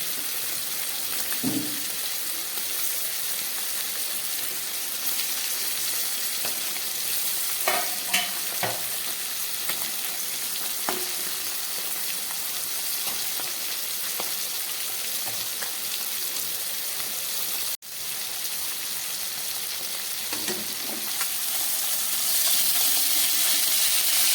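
Fish frying in a pan with tomato pieces, slit green chillies and eggplant added, giving a steady soft sizzle with occasional stirring clatters and a brighter hiss building toward the end.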